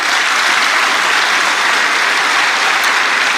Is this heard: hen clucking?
no